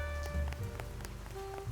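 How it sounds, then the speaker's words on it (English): Steady rain falls in the duck-themed detective game Duck Detective: The Secret Salami, a soft continuous patter with scattered brighter drop ticks over a low game hum, no talking. "As we walk through the rain."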